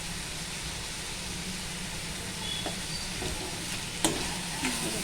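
Pizza filling ingredients roast and sizzle on a hot tava griddle, a steady broad frying hiss running throughout with a few soft scrape and stir clicks near the end, no talking.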